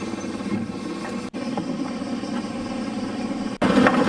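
A fishing boat's engine idles steadily while docking at a harbor after crab fishing, a low continuous rumble close by, with brief dropouts.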